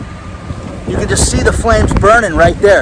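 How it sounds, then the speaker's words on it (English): Low rumbling wind buffets the microphone throughout while someone speaks over it near a wildfire at Laguna Beach. "I'm sorry about the wind"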